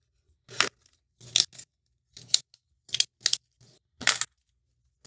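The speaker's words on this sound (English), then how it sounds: "I don't want to lose these coins. So we're going to punch those out right now." Cardboard coin tokens for the Queen Games board game Vienna being punched out of a punch board, a series of sharp close pops and tearing snaps in irregular bursts with short silences between.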